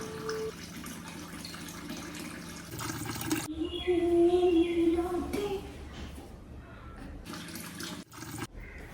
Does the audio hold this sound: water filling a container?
yes